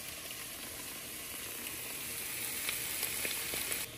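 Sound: stirring minced garlic in a skillet

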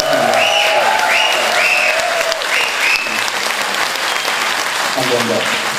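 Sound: audience applause for the drummer

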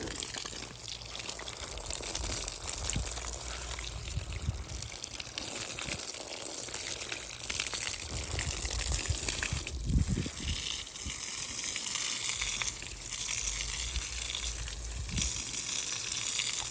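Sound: water running from hose pipe to bathe cow

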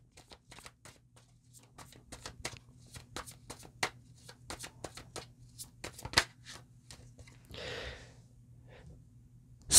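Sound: shuffling and drawing Occult Tarot cards

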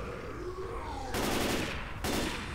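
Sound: gunfire in the video game Left 4 Dead 2

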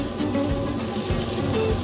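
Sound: carrots, onions and celery browning in pan

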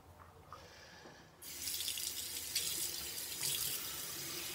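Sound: tap water running while scrubbing makeup brushes

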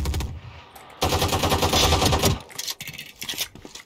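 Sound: gunfire in the video game Valorant

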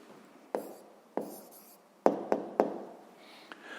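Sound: writing down an answer

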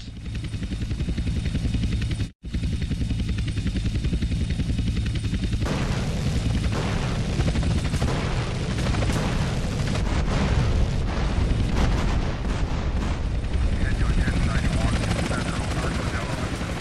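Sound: agency helicopters attacking in GTA San Andreas video game

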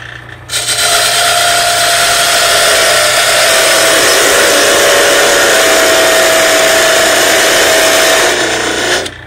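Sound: parting tool cutting a wooden handle on a lathe

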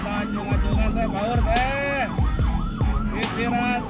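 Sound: ambulance siren

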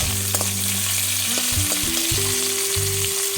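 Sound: curry leaves sautéing with onions in a pan

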